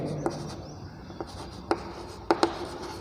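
Handwriting on paper during a science lesson, with a few sharp, separate pen strokes and taps spaced out over a quiet room background.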